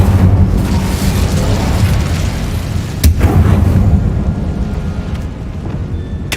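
A loud, roaring Incendio fire spell blast from Hogwarts Legacy fills the scene with a dense, booming rush and one sharp crack partway through, then it thins out toward the end.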